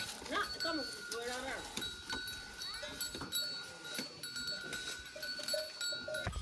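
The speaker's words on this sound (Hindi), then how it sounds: "ये भैंसों के बच्चे।" Water buffalo calves in a village call out with short harmonic cries over a busy outdoor background of clanking and other livestock, with people talking throughout.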